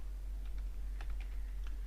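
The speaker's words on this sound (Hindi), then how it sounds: "कीबोर्ड से हमने टाइप किया" Fingers type on a computer keyboard during an MS Word lesson, a handful of light, scattered key clicks over a low steady hum, quiet and unhurried.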